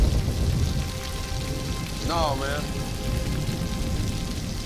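Steady rain falls throughout, a constant broadband hiss, while someone speaks briefly in the middle.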